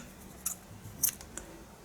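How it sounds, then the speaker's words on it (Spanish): Scissors cut knitting wool: two or three quick, crisp snips close by, fairly quiet over a faint steady background hiss. "Cortamos ya la lana."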